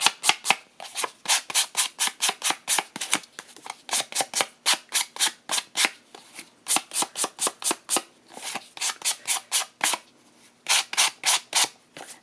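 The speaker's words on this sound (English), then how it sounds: "And then I just need to finish sanding that." Paper craft piece sanded along its edges in quick, regular rasping strokes, close and crisp, with brief pauses between bursts.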